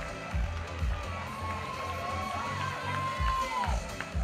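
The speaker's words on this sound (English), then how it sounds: "Mark, a big round of applause." Crowd noise and cheering rise from the audience at a men's classic physique novice bodybuilding competition, heard over music and a steady low rumble in a large hall.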